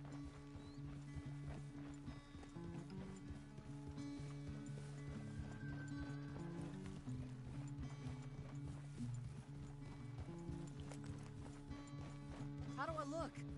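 Horse hooves clip-clop at a steady walking rhythm in the Red Dead Redemption 2 western video game, running continuously beneath a low music bed, with a brief whinny near the end.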